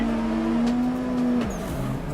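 Toyota JZX90 four-door drifting in Assetto Corsa, a steady engine drone with a held tone that drops away as revs fall, plus a faint tire squeal, game audio without talk.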